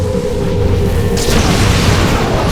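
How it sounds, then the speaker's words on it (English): A deep, loud explosion booms in the Saints Row IV Re-Elected video game, a dense low rumble that fills the whole stretch with a brighter burst of debris near the middle, no voices over it. "that explosion should take care of him"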